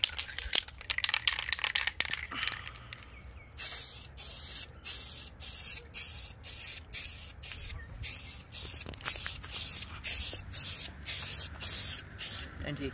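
Aerosol spray paint applied to a PlayStation 5 in gold, a series of short hissing bursts in quick rhythmic pulses, after rattling and handling noises at the start.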